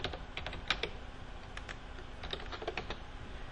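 Quiet, close keyboard typing while entering vendor setup data in accounting software, scattered clicks and short bursts of keystrokes with no talking.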